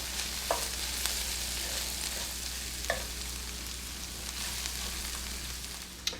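Ingredients frying in a pan give a steady, even sizzle that runs throughout, broken by a few sharp clicks of a utensil, with a low hum underneath and no talking.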